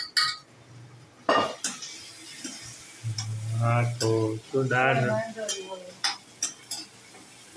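Dal is tempered in a pot at home: metal utensils clink and scrape in short knocks, and a sizzle swells in the middle. Someone speaks briefly over the cooking sounds.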